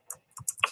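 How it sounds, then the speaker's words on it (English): Fingers tap a handful of quick, close clicks on a keypad while entering a lot number at a lace and trims sale, sharp and irregular for under a second. "So let me type in lot number, hold on, give the keypad here"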